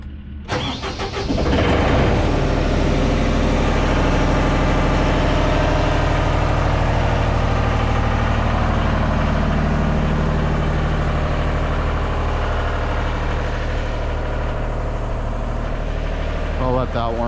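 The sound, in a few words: Genie S-65 lift engine starting and warming up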